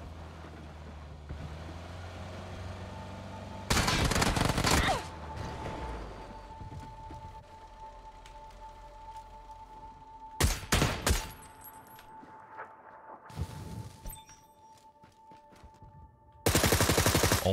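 Heavy automatic gunfire from a hard-recoiling weapon in the battle royale game PUBG on the Erangel map: loud sustained bursts come in three separate stretches, with quieter in-game ambience and a steady hum in the gaps.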